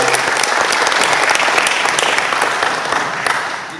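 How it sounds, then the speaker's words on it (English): A crowd applauding loudly, a dense, sustained clatter of many hands clapping that fades slightly toward the end. "Let's give her a giant round of applause."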